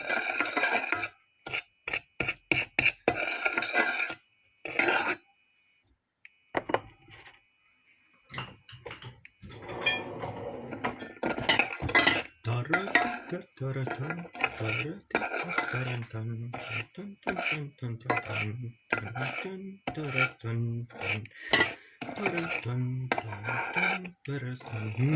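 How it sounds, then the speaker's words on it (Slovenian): A spoon scraping and stirring sugar with butter in a pan as it caramelizes, with repeated rasping strokes and clinks of metal on the pan through most of the stretch, occasionally pausing, close and fairly loud, without talk. "Sladkor se bo premešal z maslom in rahlo karameliziral."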